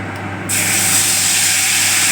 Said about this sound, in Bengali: কালো জিরে ফোড়ন দিলাম